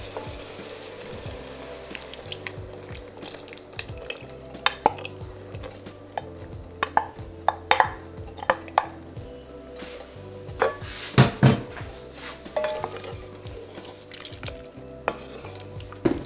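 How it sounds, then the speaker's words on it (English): A pan of bacon and mushrooms with heavy cream going in, giving a quiet sizzle under repeated scraping and clinking of a utensil against the pan, with irregular sharper knocks scattered through. "Now we're gonna add in 2 cups of heavy cream."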